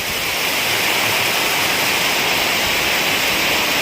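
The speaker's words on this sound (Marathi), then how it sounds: "मुसळधार पाऊस आणि वारा अशा प्रकारे हा जोरदार मान्सूनपूर्व पाऊस चालू आहे" Heavy pre-monsoon rain and wind lash a terrace in Chiplun, a dense, unbroken roaring hiss that stays loud and even throughout with no pauses.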